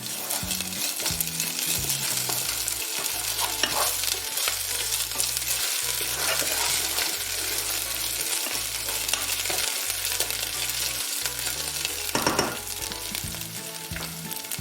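Ginger and garlic paste stirred in a frying pan with browned onions and crushed chili, a dense continuous sizzle with rhythmic spatula scrapes and a low pulsing hum, close and loud, no talking.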